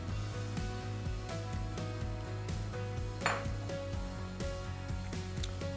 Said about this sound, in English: So we will add our oats.